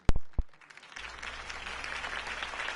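Applause after a political campaign speech in a Harvey Dent rally scene from the Batman Telltale Series video game: a few sharp claps, then a swelling, sustained crowd applause.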